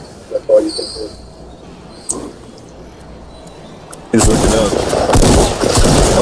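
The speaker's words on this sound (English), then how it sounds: "He's just shooting randomly." Gunfire from an opponent in a Fortnite Battle Royale squads match, a few scattered faint shots early on, then a loud sustained burst of rapid firing filling the last two seconds, close and harsh.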